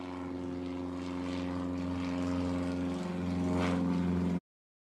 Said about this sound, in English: So a plane really did fly over at that moment in time.